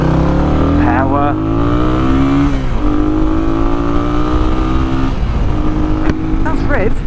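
A small vehicle's engine revs hard and steadily, its pitch climbing in repeated sweeps as it accelerates, loud and close for several seconds.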